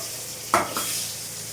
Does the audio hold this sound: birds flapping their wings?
no